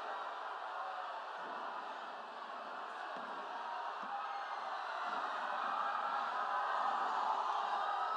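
A large crowd at a government service-distribution event in Malda's DSA Stadium keeps up a steady, distant roar of applause and cheering that swells slightly toward the end.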